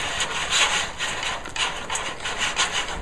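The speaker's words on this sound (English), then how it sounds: "We're going to take off the heat and continue whisking." A whisk scrapes rhythmically through thick flour paste in a pan off the heat while making a savory souffle, a close, loud, repeated rubbing swish with no talking.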